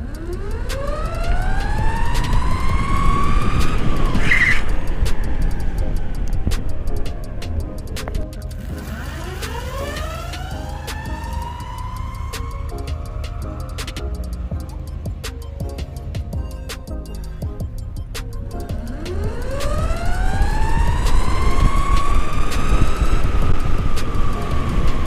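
Meepo Hurricane electric skateboard accelerating in four-speed mode: a loud motor whine sweeps sharply upward in pitch three separate times, steadying between runs, with steady rolling noise underneath and no talking.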